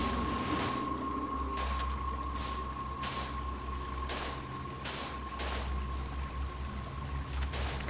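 Water flows and splashes steadily in Minecraft, a quiet continuous pouring wash with soft repeating bursts and a faint steady tone underneath.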